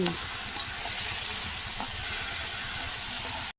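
Eggplant slices for begun sundori, cooked with dried red chillies, sizzle steadily in a pan with a soft continuous hiss and a few faint clinks, then the sound cuts off abruptly.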